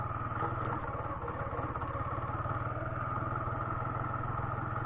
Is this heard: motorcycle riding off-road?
yes